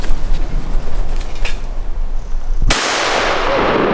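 A sniper rifle fires a single loud, sharp shot during a pigeon hunt outdoors, the crack ringing out near the end after a stretch of windy background noise.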